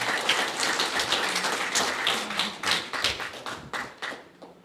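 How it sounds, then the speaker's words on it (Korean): Applause from an audience at an inauguration ceremony for a youth association's new president, a burst of fairly close clapping that swells, continues steadily, then thins out and fades toward the end. "다시 한번 뜨거운 박수 부탁드립니다"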